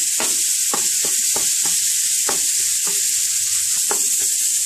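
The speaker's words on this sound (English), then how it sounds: "don't stir around too much because we want it to brown. It's just break the beef into small pieces." Ground beef sizzles loudly as it browns in a pan, a dense constant hiss broken by sharp scraping taps as it is broken into small pieces, with no voices.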